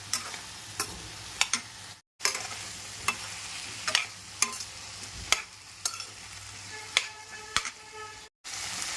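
Mixed vegetables sauté in a hot pan under a soft continuous sizzle, punctuated by regular scraping clacks of a spatula stirring them, with two brief dropouts.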